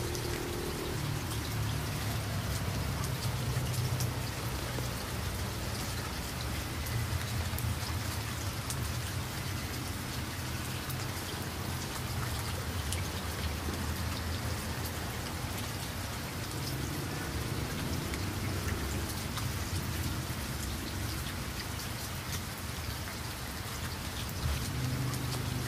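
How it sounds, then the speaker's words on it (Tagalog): Light rain falls steadily over Singapore, a soft continuous hiss of drops on surfaces with a low rumble beneath, even and unbroken for the whole stretch, with no voices. "Medyo mahina lang ang ulan mga ka-OFW, pero napakaganda."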